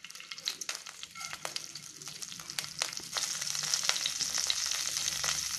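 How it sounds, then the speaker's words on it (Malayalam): Fennel seeds splutter and crackle in hot oil for a prawn and green pea curry, with sharp irregular pops over a sizzle that grows louder and denser toward the end. "ആദ്യം പെരുംജീരകം ഇട്ട് പൊട്ടിക്കാം"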